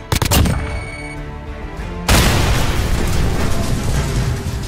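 Grenade blast in the Modern Warfare video game: a few sharp pops and a ringing tone give way to a loud, sudden explosion whose broad roar lingers and slowly fades.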